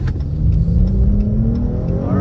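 A 2022 Dodge Challenger GT V6 engine revs hard and climbs steadily in pitch as it accelerates in sport mode, loud and close, with a deep growling exhaust.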